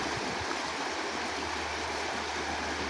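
Rapids on the Lewis River rush over rocks in a continuous, even roar of flowing water, steady and fairly loud throughout with no voices.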